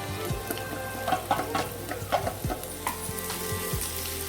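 Chopped ivy gourd sizzles as it is stir-fried with softened onions in a hot pan, a steady close hiss broken by periodic scraping strokes of a spatula.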